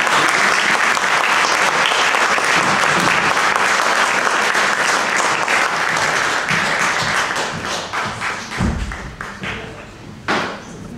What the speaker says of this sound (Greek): Θέλουμε και το χειροκρότημα.